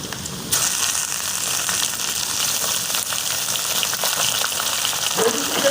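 Chicken pieces fry in a pan with golden-brown onions, and a loud, steady sizzle bursts in as they hit the oil and continues with crackling and occasional stirring.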